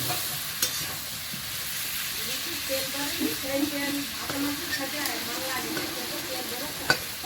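Eggplant fries in oil left from cooking hilsa fish, making a steady close sizzle with soft stirring scrapes and an occasional sharp clink, and faint talk underneath.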